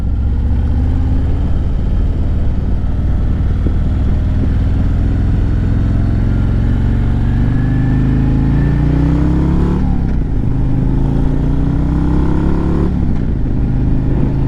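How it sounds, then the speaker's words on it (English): A 2024 Harley-Davidson Road Glide rides in first gear through a roundabout, its engine droning steadily and loud throughout, with gear shifts and rising revs near ten and thirteen seconds. "Oh, I'm down in first gear this time."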